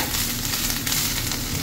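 Fish cake pieces stirred in a hot frying pan, a steady close sizzle of frying with soft stirring scrapes, continuous and fairly loud, no talking.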